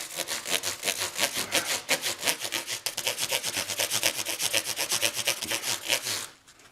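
Fret polishing on a guitar neck with fine-grit abrasive, a steady fast back-and-forth rasping rub in quick light strokes, close and continuous, stopping just before the end.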